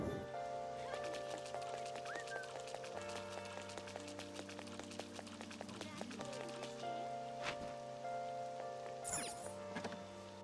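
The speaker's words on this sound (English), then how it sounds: "Rain, huh?" Steady rain falls in the video game Persona 5 Royal, a soft continuous hiss beneath sustained musical tones and occasional voices throughout.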